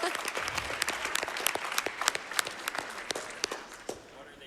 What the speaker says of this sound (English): Oh, yeah, we clap for that.